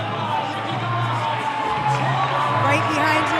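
Crowd at an elite weightlifting championship cheers and roars steadily, a dense loud wash of voices with a commentator talking over it.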